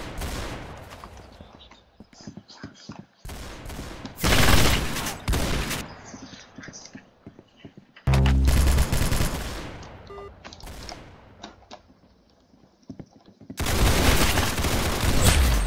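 Rapid bursts of gunfire in the Roblox shooter Arsenal, loud clustered volleys separated by brief quiet gaps, with heavy barrages near the start, middle and end.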